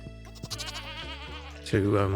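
Goats bleat in a wavering, harmonic series, several cries close to the listener with one louder call near the end; no speech is heard.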